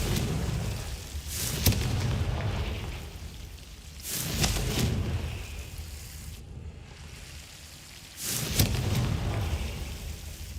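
Three heavy Confringo blast spell explosions from Hogwarts Legacy, each a broad booming burst with a crackling tail, spaced a few seconds apart and loud, with no talking over them.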